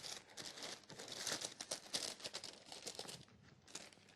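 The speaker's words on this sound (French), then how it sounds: "Alors, on va même retourner notre papier." A sheet of baking paper lining a pie dish is handled and flipped over, giving a close, soft, continuous crinkling and rustling, quiet and with no speech.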